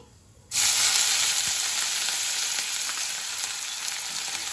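Chopped onion drops into hot oil with nigella seeds and bursts into a loud, close sizzle that holds steady and eases slightly, alone without talk.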